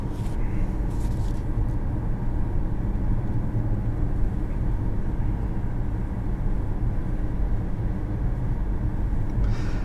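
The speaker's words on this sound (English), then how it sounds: "This one's powered by a 2-liter turbocharged 4-cylinder, variable compression, varies from 8:1 to 14:1." A 2022 Infiniti QX55 with a 2-liter turbocharged variable-compression four-cylinder drives along, giving a steady, loud low rumble of engine and road noise that holds constant throughout with no talking.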